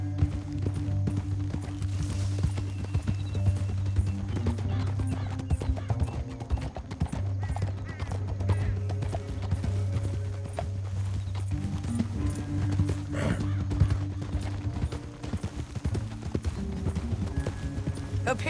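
Horses gallop in Red Dead Redemption 2, a steady close run of clip-clop hoofbeats with occasional whinnies that carries on for the whole stretch without speech.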